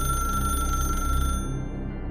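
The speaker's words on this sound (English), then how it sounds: "Then the phone rang a 3rd time." An old rotary telephone in a bedroom rings with a shrill, steady mechanical bell, loud and continuous, its bright upper tones cutting off near the end while a low hum carries on alone.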